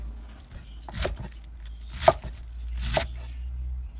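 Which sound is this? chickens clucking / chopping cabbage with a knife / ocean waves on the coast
chopping cabbage with a knife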